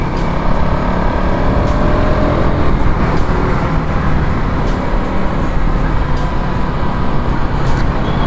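KTM Duke 200 motorbikes roar past at speed, a loud continuous engine drone with revving, filling the whole stretch without talk.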